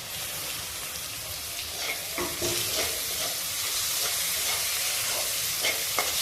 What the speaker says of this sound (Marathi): आता त्यामध्ये मी बारीक चिरलेला टोमॅटो टाकते।